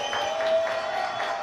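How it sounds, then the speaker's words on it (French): On a television talk set, a studio audience gives brief steady clapping to welcome guest Caroline Capel, a short burst of applause with a faint tone beneath it. "Allez, on l'applaudit"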